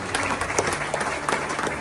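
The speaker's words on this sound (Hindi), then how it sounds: "और एक और तालियां आप सबके लिए जो है जोरदार तालियां।" Loud, dense applause from a crowd at an Indian felicitation ceremony, continuous clapping filling the whole moment.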